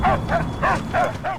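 A dog in the Mad Max video game gives five quick, evenly spaced barks, loud and close, with no talk over them.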